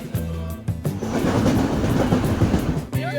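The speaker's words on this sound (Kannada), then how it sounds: "ಇವಾಗ ನಮ್ಮ ಟ್ರೈನ್ ಜರ್ನಿ ಕೂಡ ಸ್ಟಾರ್ಟ್ ಆಯಿತು" A train rumbles along the tracks close by with a steady rattling roar, wheels clattering beneath, building after a brief quieter start.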